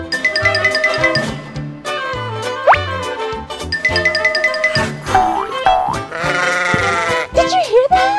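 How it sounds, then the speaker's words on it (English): Cartoonish sheep bleats ring out over bright, bouncy music with springy boing effects, several calls spread across the clip. "It's a sheep."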